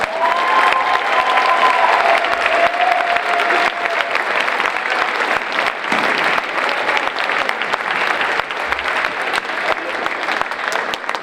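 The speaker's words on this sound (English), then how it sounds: "let's give them all a big round of applause." Sustained, dense applause from a high school concert audience fills the whole stretch, loud and close, with brief shouts and cheers mixed in and a faint tonal line early on.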